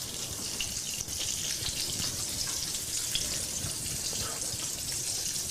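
Coho salmon fillets sizzle in a hot frying pan, a loud, steady hiss and crackle that runs unbroken throughout.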